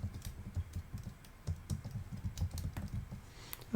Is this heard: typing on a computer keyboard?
yes